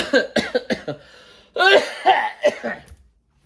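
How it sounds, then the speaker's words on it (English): A burst of several harsh coughs in quick succession, a short pause, then another run of coughs, close and loud. "Got that 100-day cough."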